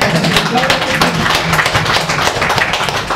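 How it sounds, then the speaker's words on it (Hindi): Participants at a training-of-trainers session clap together in a brisk, fairly close round of applause lasting a few seconds, with some voices faintly mixed in. "तालियां।"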